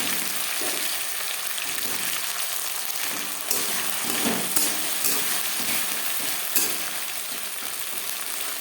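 Ginger paste, green chili paste and boiled tomato sizzle in hot oil in a pan for a vegetarian potato and cauliflower curry, a steady close frying hiss with occasional stirring.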